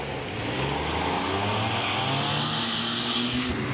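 Kei cars lapping a circuit during endurance race practice, engines droning loud and steady with tire noise, a continuous roar of several small cars passing close by.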